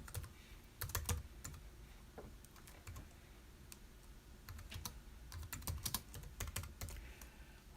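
Keys clatter on a computer keyboard in quick, irregular bursts of typing, close and fairly quiet, with short pauses between words.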